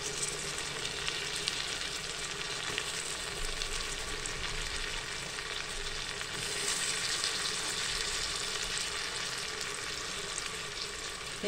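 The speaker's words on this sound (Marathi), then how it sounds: "आता आपला कांदा भाजत आलेला आहे। आता आपण टोमॅटो टाकणार आहे।" Onions, green chillies and tomato fry in a pan for a vegetable biryani, producing a constant bright sizzle that stays close and even the whole time, with no talking.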